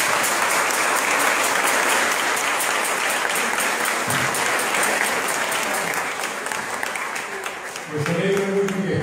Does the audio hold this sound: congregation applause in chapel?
yes